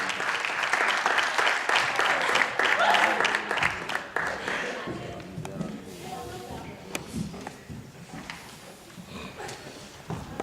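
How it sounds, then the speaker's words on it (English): An audience at a teen arts showcase claps and cheers, loud at first and gradually thinning into scattered claps, with voices talking over it. "Start clapping, making noise, showing love, bringing energy for the distinguished gentleman."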